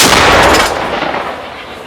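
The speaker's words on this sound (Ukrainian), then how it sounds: "Гармата!" A single heavy blast of artillery cannon fire hits loud at the start, then its boom rolls away and fades into a lingering rumble.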